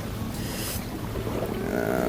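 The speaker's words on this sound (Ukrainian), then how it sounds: "І тут такий вітер дує прямо в лице" Steady wind rushing and buffeting against the microphone outdoors on the Dnipro river while fishing, with a constant broadband roar and no talking.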